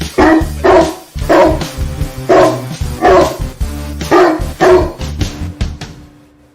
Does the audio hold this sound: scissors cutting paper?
no